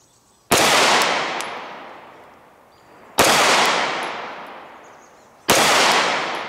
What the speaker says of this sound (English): I'm going to press 3 more shots and then we'll step back here